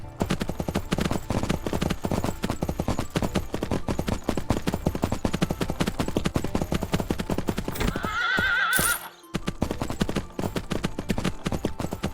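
In a Three Kingdoms Zhao Yun video game, rapid hoofbeats of a galloping horse pound steadily throughout, with a brief whinny near the end before the hooves resume.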